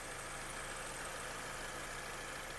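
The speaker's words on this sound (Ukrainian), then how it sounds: "Двигун працює чітко." A Subaru Outback's engine idles with a quiet, steady hum and faint low rumble, unchanging throughout with no voices.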